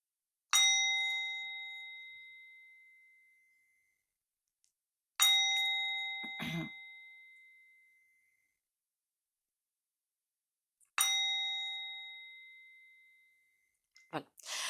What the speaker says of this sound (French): Allez, 3 petits coups de bol tibétain.